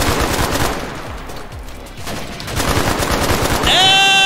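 Rapid automatic gunfire in a Vietnam War video game, loud dense bursts of shots that ease briefly and then build again, ending with a ringing metallic tone.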